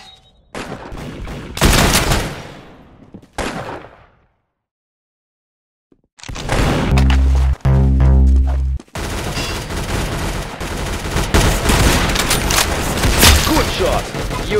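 Rapid bursts of gunfire from the Roblox shooter game Arsenal, with loud heavy booms in the middle and continuous firing near the end, broken by a short silent gap.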